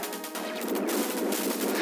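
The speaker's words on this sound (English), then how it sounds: "Getting pelted with rockets from overhead." Rockets fired by units in the video game Dune 2, a quick burst of harsh crackling launches and impacts packed into under two seconds.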